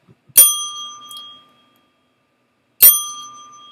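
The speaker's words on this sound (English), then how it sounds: "Those deserve a bell ringing, sir." Two crisp, loud single rings of a bright metal bell, each ding ringing out and fading over about a second, spaced roughly two and a half seconds apart with silence between and no talk.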